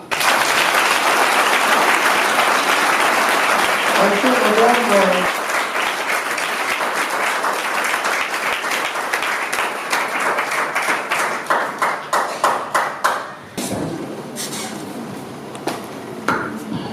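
Guests at a civil wedding ceremony applaud, a long loud burst of many hands with a few voices, thinning to scattered individual claps before stopping, then a quieter room with a voice.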